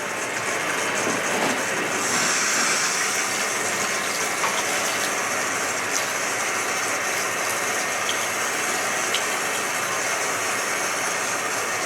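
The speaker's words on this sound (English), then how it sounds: "I'm gonna wash it in deep cleansing shampoo." Running water gushes in a continuous loud hiss as hair is washed with deep cleansing shampoo at a salon before a perm, steady throughout with no talk.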